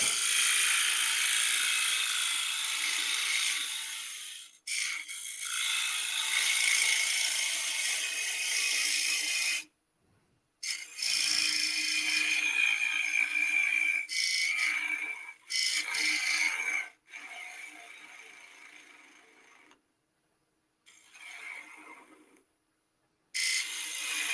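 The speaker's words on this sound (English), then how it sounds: "one more cut went right in that corner with the bowl gouge" A bowl gouge cuts wood on a spinning lathe, giving a steady, loud rasping scrape that comes in several long passes, broken by brief silent pauses between cuts.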